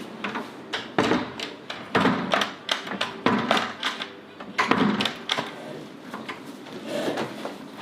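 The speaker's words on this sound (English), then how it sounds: "I'll just go shut the door." A room door is pushed shut, giving a series of knocks and thuds with wooden rattles and footsteps in between, close by and fairly loud, with no talking.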